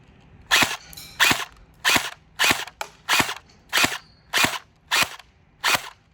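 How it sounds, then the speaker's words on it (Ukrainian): A Cyma CM47T battery-powered airsoft AK47 fires about ten single shots at a bottle, each a crisp, loud snap spaced roughly half a second apart in an even rhythm. "10-15 метрів, прицільна стрільба."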